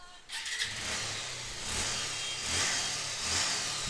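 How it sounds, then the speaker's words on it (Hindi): A Bajaj Avenger motorcycle engine cranks on its electric self-starter and catches, then settles into a steady, fairly close idle with a low rumbling throb. "सेल्फ स्टार्ट आसानी से हो गया है।"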